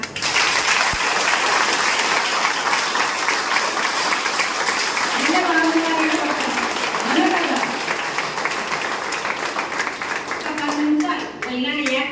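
Sustained applause from a seminar audience in Kurnool fills the whole stretch, dense steady clapping with a voice speaking over it near the end.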